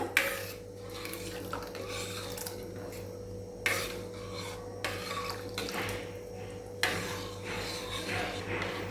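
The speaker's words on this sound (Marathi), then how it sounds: "आता आपण हे नारळाचं दूध घालूया यात घालत असताना व्यवस्थित मिक्स करून घ्या" Coconut milk being stirred into rice kheer in a pot brings soft rhythmic scraping and rubbing of a spoon against the pan, with a few louder strokes, quiet and close under a low steady hum.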